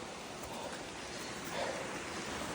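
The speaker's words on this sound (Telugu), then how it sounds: "చూడండి వాటర్ ఎట్లా వస్తున్నాయి ఆ కొండల పై నుంచి." Water flowing down from the mountains around a highway on the road to Kargil, Ladakh, heard as a steady broadband rush of moderate loudness, continuous and even throughout with no voices.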